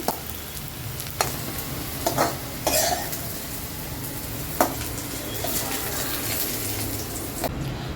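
Sliced onion sautéed in a pan until browned for a green chicken curry, a soft steady sizzle with scattered scrapes and stirring knocks of a spatula, fairly quiet and with no talking.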